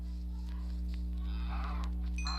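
Cows mooing in Minecraft survival mode, faint lowing calls over a steady low droning background.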